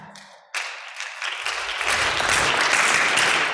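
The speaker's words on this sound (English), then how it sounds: "Clap" Church audience breaks into applause after a short quiet moment, clapping swelling from scattered claps into full, dense applause that holds loud and steady.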